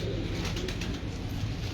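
A domestic pigeon on a rooftop coos softly in low repeated notes, close by, against steady broadband background noise with no talk.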